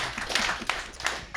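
Crowd applauding for an electronic artist at Ableton's headquarters, a brief spell of scattered clapping with a few sharper claps, fairly faint and close.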